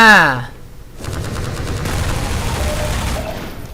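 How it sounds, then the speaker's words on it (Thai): Gunfire in Half-Life 2: Episode 1, a sustained rattle of rapid shots after a brief voice at the start, loud and continuous to the end. "อันนี้ยิงกันหูดับ"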